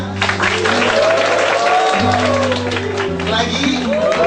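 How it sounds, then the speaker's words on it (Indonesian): An audience at a book launch in a bookstore plaza applauds together, dense steady clapping filling the room, mixed with background music and a tone held low beneath it. "Bapak dan Ibu boleh sama-sama tepuk tangan"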